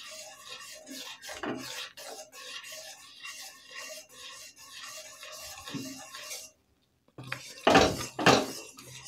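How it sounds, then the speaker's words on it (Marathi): A metal spoon stirs and scrapes milk in a cooking pot for vanilla kulfi, giving steady close scraping and clinking strokes that pause briefly, then return louder. "थोडी थोडी टाकायची आणि असं चमच्याने हलवायचं आहे."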